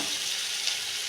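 Onions sautéing in a pan, a brief steady hissing sizzle, close and even, with no voices.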